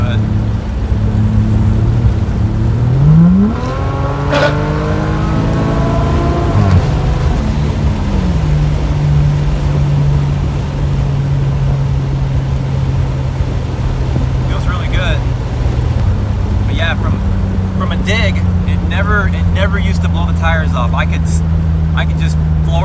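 A 1JZ-swapped Fox Body car accelerates hard on a 75-shot nitrous kit, its engine note rising steeply through the gears with a loud, sustained roar and tire noise, heard close up under occasional talk.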